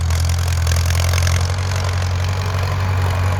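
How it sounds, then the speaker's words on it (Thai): A Ford 6600 tractor engine runs steadily, a loud low rumbling idle that continues without a break. "รถแท็กเตอร์ ฟอร์ด หรือว่ารถไถฟอร์ด"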